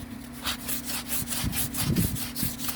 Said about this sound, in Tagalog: Yung mga pisa nga, yan, nililiha yan oh